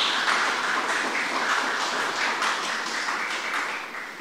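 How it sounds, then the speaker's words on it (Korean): Church congregation applauding together during a Sunday worship service, a steady, dense wash of many hands clapping that fades slightly toward the end, with no talk over it. "오늘 축하의 박수를 또 감사의 박수를 함께 나눴으면 좋겠습니다"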